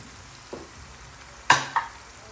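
Potato chips fry in oil over a full gas flame, a soft background sizzle broken by a couple of sharp clattering pops and scrapes as they are stirred.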